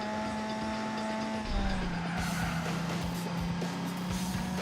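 A Subaru Impreza in Gran Turismo 4 brakes hard and skids, its engine tone dropping into a loud tire squeal that carries on alone for several seconds.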